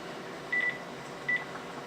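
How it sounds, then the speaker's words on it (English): Touch-tone telephone dialing: a few short keypad beeps in two brief clusters over a quiet room hum, with no talking. "we're going to call DNR right now, ask them some questions"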